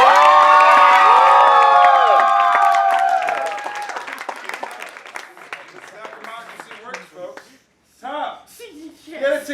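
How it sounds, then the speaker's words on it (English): A high school comedy audience bursts into loud applause, cheering and whoops at once, then the noise thins into scattered claps and voices, with talk following after a short pause. "So applaud now if you think we should ban children."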